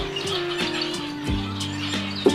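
Pet finches kept in a breeding setup chirp in short, bright repeated calls over a constant background hum, fairly close, without speech.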